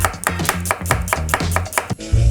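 A knife chops a couple of onions on a board in a home kitchen, giving about ten sharp, evenly spaced cuts close up before a brief low thump at the end.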